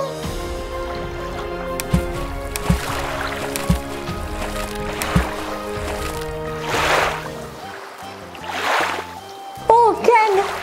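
A toy doll jumping into water during play with a toy set: splashes and sloshing water among music and voices acting out a story, with a couple of louder splashes near the middle.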